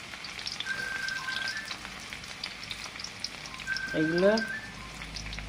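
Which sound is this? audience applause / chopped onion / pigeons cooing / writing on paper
chopped onion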